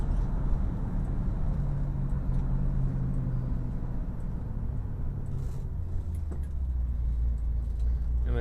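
A 1964 Chevy car cruising along an old back highway, its engine droning with steady low rumble and road noise throughout, a faint rattle near the end, no talk.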